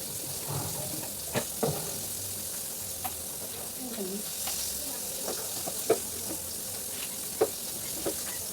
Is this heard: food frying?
yes